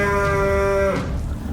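A single loud, close moo from one of 22 cattle kept on a small 400-square-metre urban farm in South Jakarta, holding a steady tone for about a second before breaking off amid faint background noise.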